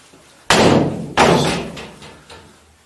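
A front PVC door at the main entrance of a ground-floor flat building bangs twice in quick succession, followed by a fainter rattle, loud and close.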